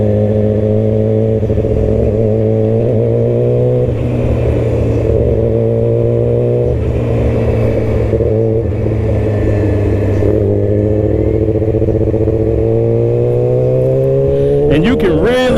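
A Yamaha R6 sport motorcycle accelerates steadily onto a highway, its engine droning close and loud with a strong rising whine throughout, climbing sharply in pitch near the end under heavy wind rush.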